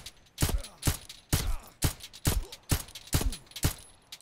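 Escape from Tarkov pistol firing full auto during an armor test: about nine loud, sharp gunshots in an even rapid rhythm, each with a short ringing echo, no talk.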